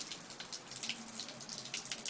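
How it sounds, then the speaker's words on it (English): Evian spring water runs from the tap at its original source, a continuous splashing trickle heard close up and fairly faint, with no talking. "this is the original source of the water, the famous water"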